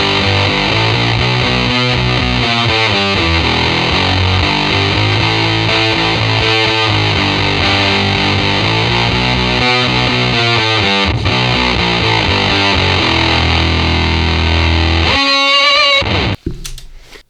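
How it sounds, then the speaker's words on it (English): An electric guitar through a Big Muff fuzz pedal with a Whammy adding an octave down plays a heavy, loud, rhythmic riff for about fifteen seconds, ending in a brief squealing pitch sweep and cutoff. "even more so it's taking that huge big muff tone and just adding even more dirt to it"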